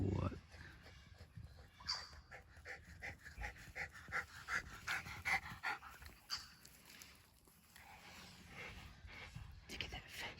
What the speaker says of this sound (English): Is that a happy dog or what?